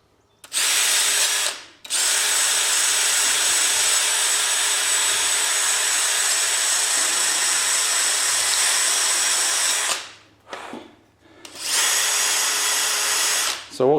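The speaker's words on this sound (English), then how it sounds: "I'm gonna grind away on this for a while" Power grinder grinding on the fuel line of a 1967 Mustang, a loud, close, high-pitched whine in long continuous runs, stopping briefly near the start and again near the end before spinning back up.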